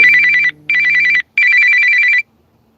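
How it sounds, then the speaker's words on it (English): A phone rings loudly and close up with a trilling electronic ringtone in three bursts separated by short pauses, then stops, with no talk over it. "I always forget to cut my phone on do not disturb."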